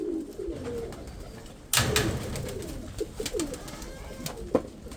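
Pigeons cooing nearby in soft, low repeated calls, broken by a sudden rustle or flapping burst and a few short knocks.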